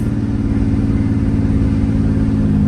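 A straight-piped Toyota Supra engine runs with a deep, steady droning rumble, loud and close from inside the moving car, holding an even note throughout with no talking.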